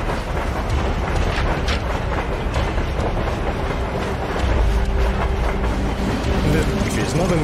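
Train wagons rolling along rails in a video game, a steady rumbling clatter with wind rushing past and a deeper hum joining partway through, as voices talk over it.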